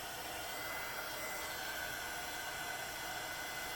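A heat gun blows steadily on glue-lined heat shrink tubing over an electrical terminal, a constant soft hiss of air with no breaks, faint and even throughout.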